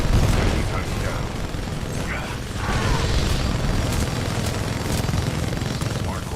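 Titanfall 2 Titan smart core weapon firing, a sustained rapid mechanical rattle of automatic shots with clanking machinery and bursts, steady and loud for several seconds, with a game voice talking over the gunfire.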